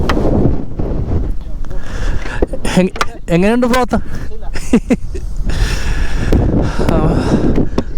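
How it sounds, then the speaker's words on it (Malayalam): Strong wind buffets the microphone in a constant low roar at the Ilaveezhapoonchira hilltop while someone talks over it, with a higher voice joining briefly in the middle. "പക്ഷെ കാറ്റ് നല്ല കാറ്റാട്ടോ"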